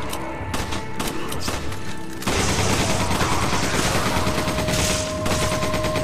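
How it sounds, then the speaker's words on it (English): Sustained machine gun fire in the Resident Evil 5 video game: dense rapid bursts that start thin and then swell into a loud, continuous barrage, with no talking. "Use your machine gun."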